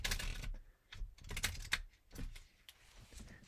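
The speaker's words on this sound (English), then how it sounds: "So I am now shuffling in the traditional way that you'd probably think of when you think of shuffling." Playing cards shuffled by hand in the traditional overhand way, giving quick papery riffles and flicks in uneven bursts, fairly close and alone with no talk.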